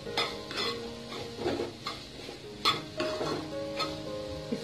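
Spoon stirring chana chaat masala ingredients, with salt and black salt added, in a bowl, heard as repeated scraping and clinking strokes at close range, steady and moderately loud with no talking.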